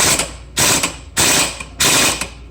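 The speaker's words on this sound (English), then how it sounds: "On some of these impact wrenches, don't just hold the trigger. Do little tiny blasts." An impact wrench loosening faceplate bolts on a scooter, fired in four short, loud rattling bursts with brief pauses between them, close by and without speech.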